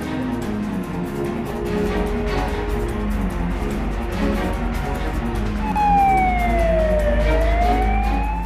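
An alarm siren warns of a chlorine leak at a chemical plant, a steady wailing tone that later sweeps down and back up, heard over a constant low rumble with no talk.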